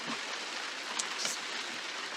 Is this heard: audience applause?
no